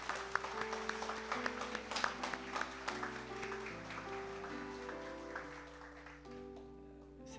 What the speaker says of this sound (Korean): 먼저 14년 동안 인도하신 하나님께 먼저 감사와 영광의 박수를 올려드리겠습니다.